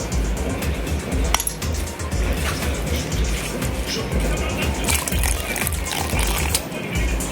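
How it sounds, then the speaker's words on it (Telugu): Raw prawns and tender tamarind leaves are swished and rinsed in a bowl of water, a steady close sloshing with light clinks of the vessel running throughout without a break. "ఇప్పుడు దీంట్లో మనము వాటర్ వేసేసుకొని వాష్ చేసుకోవాలండి"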